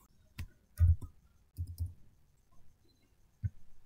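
Sparse mouse clicks made while entering a spreadsheet formula, a handful of separate close clicks spread out with quiet gaps between them.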